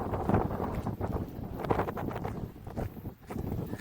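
Gusty wind buffets the microphone in rough, uneven bursts, loud and close throughout.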